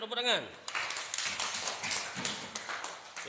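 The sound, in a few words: schoolchildren clapping hands in class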